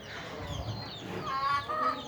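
Chickens on a small home farm clucking near a kitchen and pond, soft repeated calls at moderate distance with a brief tonal call toward the end over light background noise.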